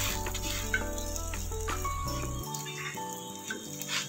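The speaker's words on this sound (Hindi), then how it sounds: "तो दबा दबा कर हम ज़्यादा नहीं दबाएंगे, जिससे कि हमारा ये ज़्यादा हमारा चपटा ना, हल्के हाथ से दबा दबा कर इसे हम सेकेंगे।" Paneer paratha cooking on a pan while being pressed down gently, a soft continuous sizzle under steady background music, with occasional light rattles of the pan.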